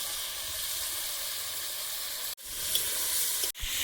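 Broad beans fry in a pan with a steady, hissing sizzle, broken by two brief near-silent gaps, with no talk.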